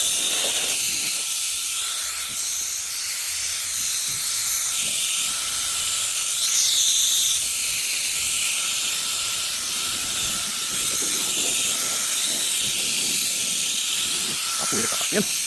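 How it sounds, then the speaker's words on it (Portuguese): A tiny handheld portable fan whirs with a steady airy hiss that holds throughout, close to the microphone, with brief clicks and handling noise now and then. "um ventiladorzinho portátil"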